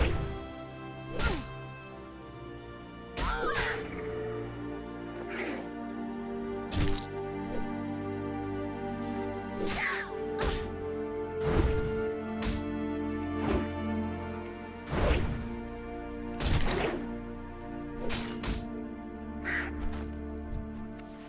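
Repeated harsh crow-like caws and sharp hits from a bird fight in World of Warcraft Classic Season of Mastery, sounding over layered game music with several loud strikes spaced throughout.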